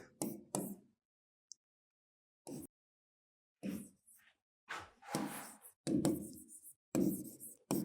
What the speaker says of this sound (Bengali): আমি একটা এক্সাম্পল নিচে লিখি